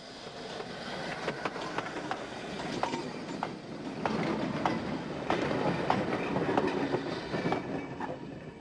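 A 1950s Irish steam goods train rumbles past steadily with rhythmic clicking of wheels over rail joints, a broad continuous roar that swells slightly midway.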